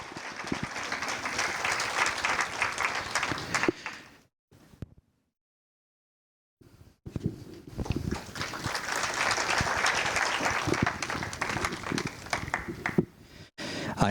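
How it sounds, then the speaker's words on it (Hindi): Loud audience applause at a Janmashtami celebration, sustained for several seconds, breaking off into a brief silence and then swelling again into steady clapping. "जोरदार तालियां"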